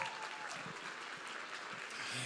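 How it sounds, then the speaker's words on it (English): Applause rises from the audience for the keyboard player at a family partnership event, a fairly soft, continuous wash of clapping at moderate distance. "Give him a round of applause"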